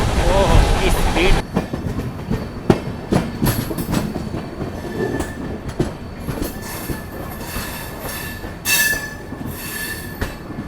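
A train races past at high speed on the Howrah to Kalka route, giving a loud close roar with rapid rhythmic wheel clatter and squealing, while a voice talks excitedly over it.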